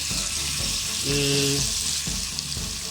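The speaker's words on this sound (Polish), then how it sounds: "Boczek jest rozłożony po całym dnie, już trochę ta strona się przysmażyła" Strips of bacon spread across the bottom of a pan fry with a steady loud sizzle and hiss, with a brief clink and soft scraping as it is worked, no voice present.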